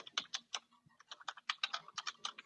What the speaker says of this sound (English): typing up some reports